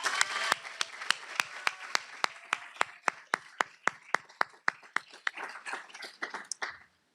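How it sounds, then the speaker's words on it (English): Applause at a divinity school convocation, with sharp regular claps standing out over a broader spread of clapping from the audience, steady for about seven seconds and then stopping abruptly. "Please let's give them all a round of applause."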